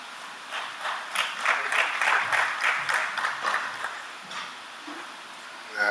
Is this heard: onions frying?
no